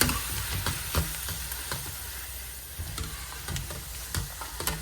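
Potato chips frying in hot oil in a home kitchen, a steady dense sizzle with crackling pops throughout, close and fairly loud with no talk.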